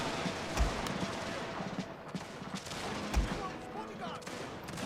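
Musket volleys crackle in a video game battle, with scattered distant shots and a couple of heavier booms under a continuous battlefield din, while a voice talks over parts of it.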